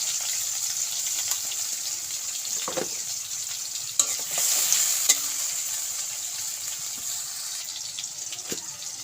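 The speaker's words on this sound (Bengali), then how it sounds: "পুদিনা একটু ভেজে নেব" Mint leaves and chopped onion frying in a pan for a bitter gourd and prawn curry, a steady bright sizzle running throughout with occasional stirring knocks, close and alone with no talk.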